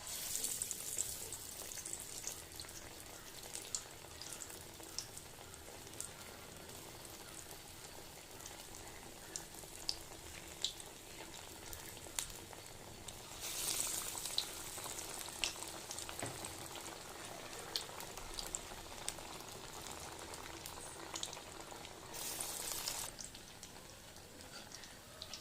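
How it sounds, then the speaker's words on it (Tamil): Banana flower vadai fry in hot oil with a faint, steady crackling sizzle and scattered pops, continuous throughout with no voices. "எண்ணெய் சூடாகிடுச்சு. இப்போ நான் இதில் கொஞ்சம் ஒரு வடையாக போட்டு எடுக்க போகிறேன்."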